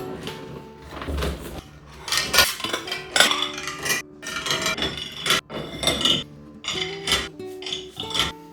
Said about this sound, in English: So we start here, putting the dishes away and loading the dishwasher.